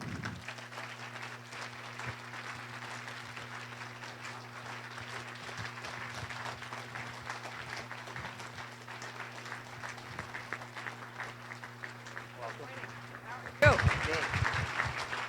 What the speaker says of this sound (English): would you please give a nice big round of applause to Carly Fiorina.